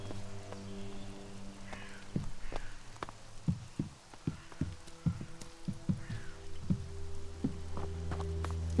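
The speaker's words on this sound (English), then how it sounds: "raining again. It's always raining here." Soft rain patters steadily in the Elex video game world, with scattered droplet ticks and low thumps over a quiet ambient bed, faint and without speech.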